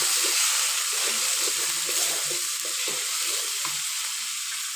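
Turmeric, coriander, chili powder and salt fry in a pan, giving a continuous hissing sizzle with soft, irregular stirring scrapes underneath and no voices.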